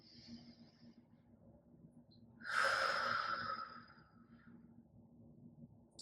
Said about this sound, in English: Exaggerate that inhale and exhale